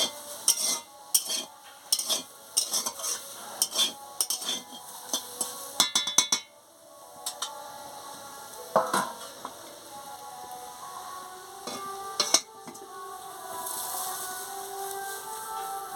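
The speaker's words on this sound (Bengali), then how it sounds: "এবারে ভালো করে একটু নাড়িয়ে নিচ্ছি" Water spinach (kalmi shak) stirred in a hot pan, with a soft sizzle under repeated clinks and scrapes of a utensil against the metal, loud in bursts for several seconds and then settling into a steadier frying hiss.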